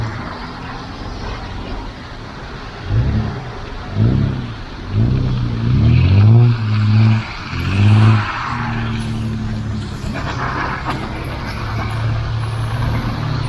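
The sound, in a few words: many cars on a street in Yakutsk, freezing weather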